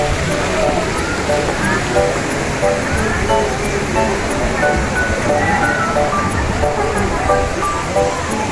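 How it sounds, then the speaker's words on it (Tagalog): Daranak Falls in Tanay, Rizal pours with a constant, full rushing roar of falling water, and indistinct voices of a crowd of bathers mingle faintly beneath the noise. "Ayun yung falls. Yan. Ayun ang falls, oh."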